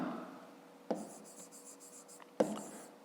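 A pen writes on paper in a soft, steady scratch, marked by two sharper taps about a second and a half apart, close and faint, with no talking.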